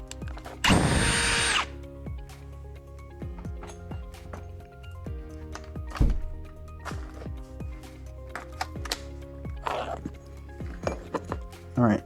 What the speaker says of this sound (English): Now I have to drill a pilot hole.